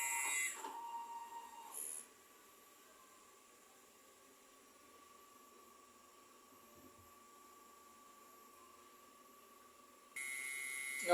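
Inkjet printer running a head cleaning cycle, with brief mechanical whirs at the start and near the end around a long stretch of faint, quiet whine and hiss.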